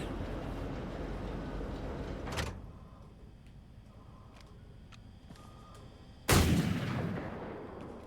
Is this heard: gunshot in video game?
yes